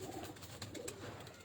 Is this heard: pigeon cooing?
yes